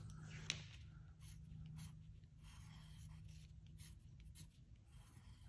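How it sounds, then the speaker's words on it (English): Pencil scratches and scribbles quietly across paper in quick, uneven strokes, close and soft against a low background hum. "I'm just drawing it quickly to show you."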